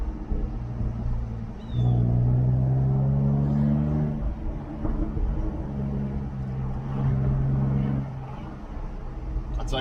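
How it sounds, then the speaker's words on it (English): A Jaguar F-type sports car's exhaust rumbles steadily from inside the cabin while driving, a low droning note that swells as it pulls ahead before easing back. "the exhaust note on this, it sounds pretty good"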